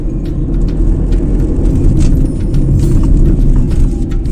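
A car climbs a mountain road in fourth gear with a steady, loud, low engine drone and road rumble, continuous throughout with no voices.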